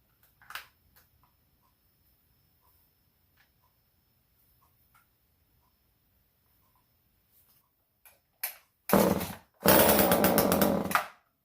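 A primed two-stroke chainsaw is pull-started: a faint early tug, then two short bursts and a loud sputtering catch that runs roughly for a couple of seconds near the end.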